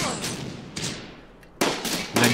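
Enemy mortar rounds landing in a World War II strategy game set around Caen, several sharp blasts in quick succession with rumbling decays, loud and close.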